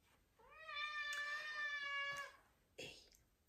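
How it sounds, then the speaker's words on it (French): A pet cat gives one long, drawn-out meow, clear and close in a quiet room, followed by a short second cry. "Vous entendez mon chat?"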